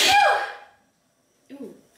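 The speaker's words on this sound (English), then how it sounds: "need to sneeze" A single sharp sneeze bursts out at the start, followed by a pause and a brief faint voice.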